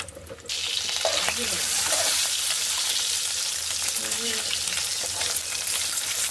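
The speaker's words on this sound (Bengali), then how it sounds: "হালকাই ভাজবো, বেশি ভাজবো না" Steady, close frying sizzle as eggs cook lightly in hot oil, a dense crackling hiss that stays level throughout with small spits and pops, no talking.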